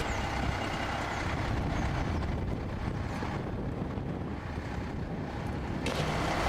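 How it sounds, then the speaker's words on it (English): A three-man fire department ladder truck pulls up to a residential structure fire, its engine a steady, loud broadband rumble throughout with faint reversing beeps, and no talking. "3-man ladder truck coming up to a residential structure fire."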